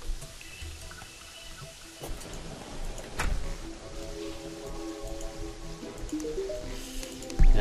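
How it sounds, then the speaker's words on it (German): Rain falling in Terraria, a soft steady patter of drops with light dripping and squishy ticks under faint game sounds, quiet throughout and swelling slightly at the end. "Oh, es regnet gerade."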